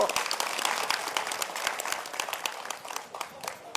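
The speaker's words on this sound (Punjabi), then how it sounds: "ਔਰਤੋ ਤੁਸੀਂ ਆਪਦੇ ਲਈ ਤਾੜੀ ਮਾਰ ਲਓ" A crowd of women applauding at a talk, a dense patter of many hands clapping together that fades somewhat toward the end, slightly distant.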